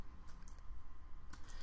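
Computer keyboard keys are tapped quietly at a desk, a few scattered clicks in two short clusters against a low background hum.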